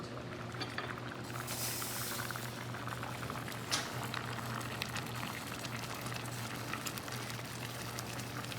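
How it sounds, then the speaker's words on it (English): A pot of vegan mulligatawny soup simmers with a soft, continuous bubbling and burbling, fairly quiet and close, with a few small clinks and no talking. "So the soup's been simmering for about 15 minutes"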